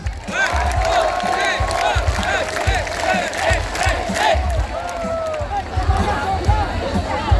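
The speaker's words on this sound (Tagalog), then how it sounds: "10 palakpak para kay Manang" A crowd cheers and claps for Senator Imee Marcos at a political gathering, a loud, steady roar of voices with scattered shouts and clapping running throughout.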